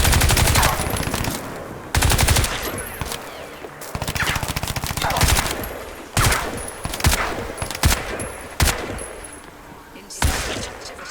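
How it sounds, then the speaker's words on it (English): Rapid bursts of gunfire from an alien weapon in the shooter game Crysis 3, loud stuttering volleys with short gaps, firing again and again over about eleven seconds with no talk. "I'm using some weird alien weapon here."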